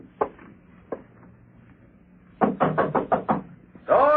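Someone knocks on a wooden door, first two spaced single raps, then a quick run of five or six firm knocks, followed by a faint voice at the very end.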